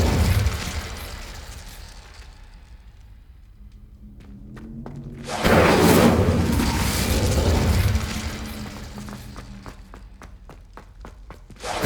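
In Hogwarts Legacy an Incendio fire spell goes off with a sudden loud whooshing burst that roars for a couple of seconds before dying down, surrounded by footsteps and soft game ambience.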